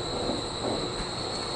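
Steady rumbling train noise with rail clatter and a constant high whine, heard evenly throughout from inside or close beside a moving train.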